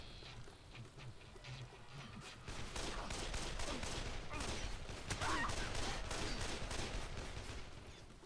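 Assault rifle fire in Dead Island sounds as a dense, continuous rattle of rapid shots. It swells louder halfway through and keeps going at a fairly muted level to the end.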